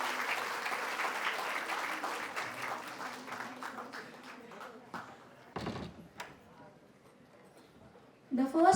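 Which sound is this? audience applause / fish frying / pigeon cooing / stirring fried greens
audience applause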